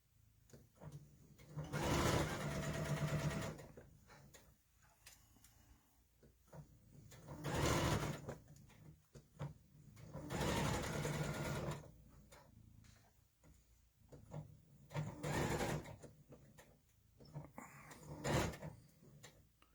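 Sewing machine stitching a quilt in four or five separate bursts of rapid mechanical whirring, each lasting one to two seconds, with quiet handling and shuffling between them, faint and close.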